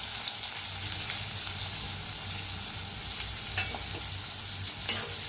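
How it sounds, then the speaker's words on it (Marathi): Two cut onions fry in a pan with a constant close sizzling hiss, a few faint stirring clicks and one brief sharp clatter near the end, no voices over it. "इथे 2 कांदे कापून घेतलेले आहेत ते भाजून घेऊया"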